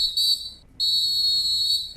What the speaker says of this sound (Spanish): Suena el silbato y es momento de un descanso.